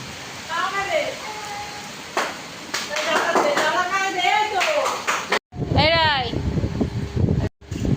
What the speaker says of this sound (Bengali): দেখো বন্ধুরা কতটা বৃষ্টি হচ্ছে এখানে।